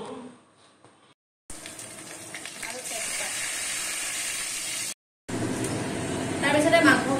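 Whole spices and onion fry in hot oil for an Assamese duck curry with ash gourd, producing a steady, hissing sizzle broken by brief silent gaps and growing louder toward the end.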